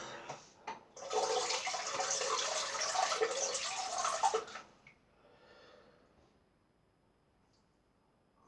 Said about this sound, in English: So easy to rinse your razor out.